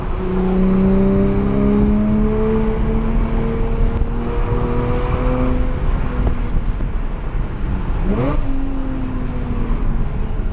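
A Porsche fitted with an Armytrix exhaust rumbles and revs in slow traffic, a steady loud engine drone with rising and falling tones and other passing vehicles blending into the noise.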